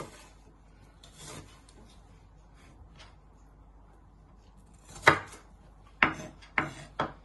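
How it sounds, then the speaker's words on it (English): A knife chopping onion for prawn jambalaya: soft rubbing cuts at first, then a few sharp, distinct chops on a board near the end, close and fairly quiet with no talk. "Then turn it around and just finally chop it."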